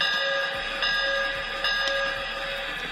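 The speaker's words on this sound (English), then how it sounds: "And you also have your bell button." A small electronic bell on a Lionel LionChief Hogwarts Express toy train rings steadily, a bright repeating ding over a continuous hum, close and moderately loud.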